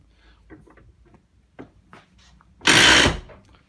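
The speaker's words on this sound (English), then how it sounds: "That's the quick release, quick tighten feature, and then lock it up like this." The quick-release mechanism of a woodworking bench vise is operated. Light clicks and taps lead into one loud, harsh metallic slide and clunk that lasts about half a second.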